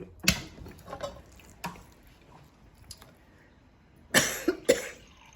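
Several faint coughs spaced across a quiet stretch, followed by two louder, close coughs near the end, with soft wet sounds in between.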